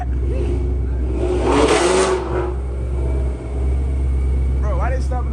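A Dodge Hellcat engine revs and accelerates in a loud, roaring surge that peaks early and then settles into a steady rumble, with people talking nearby.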